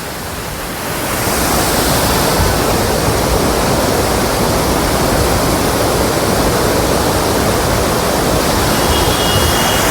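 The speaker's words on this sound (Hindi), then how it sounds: "अब इस वाटरफॉल का मैं यहाँ से आपको बहुत अच्छी तरीके से इसका व्यू दिखाता हूँ।" A roadside waterfall near Nainital roars as a dense, steady rush of falling water, loud and close, swelling in over the first second and then holding constant.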